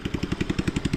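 Tractor engine chugging in a rice paddy, a fast regular pulsing beat of low thuds, steady and moderately close, with no voices.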